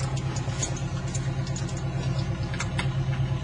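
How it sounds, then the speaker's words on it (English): Light aircraft piston engine running just after starting, a steady low clattering rumble at close range. "as soon as the engine catches, we're going to advance the mixture to full forward and pull the throttle back to full idle"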